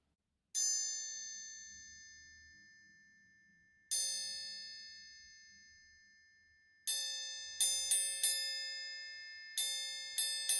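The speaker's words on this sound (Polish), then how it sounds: "Trójkąt, zwany też trianglem, to bardzo prosty w budowie instrument perkusyjny." A triangle rings out with bright metallic strikes, first single hits letting each tone decay, then a quicker series of repeated dings, clear and close.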